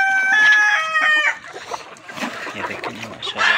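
Sonali chickens on an egg farm crow loudly up close, followed by a busy chorus of clucking and squawking from the flock, with a voice talking over part of it.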